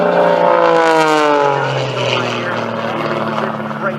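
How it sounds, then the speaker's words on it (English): Extra 300 aerobatic airplane at an air show at Richard Downing Airport, Coshocton, Ohio, its engine droning steadily and loud with a falling pitch as it passes, while a commentator talks over it. "Look at that airplane. Absolutely great performance. Extra 300 on zone."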